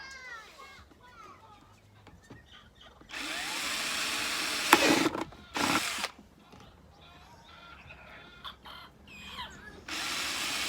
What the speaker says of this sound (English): I'm using a drill bit.